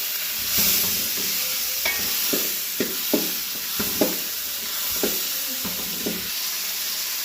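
Onions and tomatoes sizzle in a pan for a fish curry while a spoon stirs them, giving a steady frying hiss broken by repeated scraping and knocking strokes, close up and without speech.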